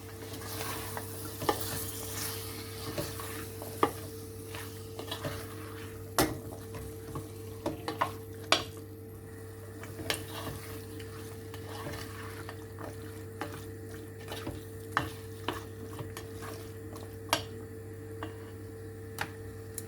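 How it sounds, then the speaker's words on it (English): Cooked chickpeas and potatoes stirred together in a pot for a chickpea and egg curry: a low steady hum with soft scraping and irregular clinks and taps of the spoon against the pot, close and fairly quiet, with no voices. "and my chickpeas, and then give them a mix"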